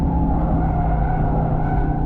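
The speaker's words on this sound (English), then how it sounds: "starting to drift around a little bit" A 2025 Aston Martin Vantage drifts on a race track, its engine holding a loud, steady drone while the tires scrub and skid continuously for about two seconds.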